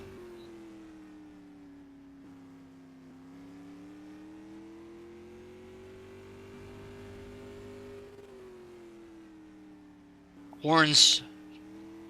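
A supermodified race car engine drones steadily through a warm-up lap in a sim racing time trial, holding a smooth pitch before a brief, louder burst near the end, with a commentator talking over it.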